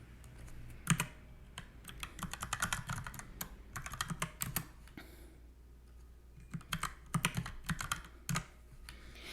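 Fingers type on a computer keyboard in quick bursts of sharp clicks, pausing briefly between runs of keystrokes, close and fairly quiet.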